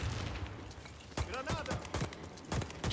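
AK-103 rifle fire in the video game Warface cracks out in several sharp, separate shots spaced irregularly, loud and close, with brief speech over part of it.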